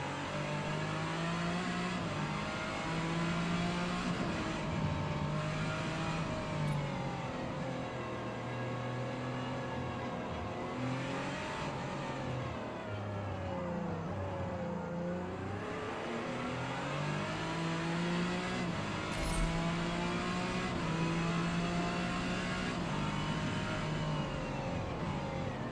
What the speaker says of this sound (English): The FTO Mitsubishi, the 2-liter Mivec one. I like the sound of that thing.